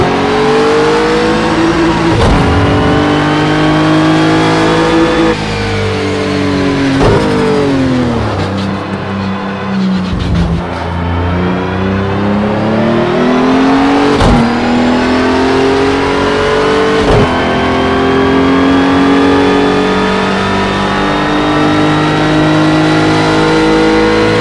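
Race car engine in Project Cars 2 revving hard and continuously, rising and falling with repeated gear shifts, loud and close throughout the drive.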